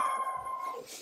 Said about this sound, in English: Oh my gosh, I'm sorry for my dog.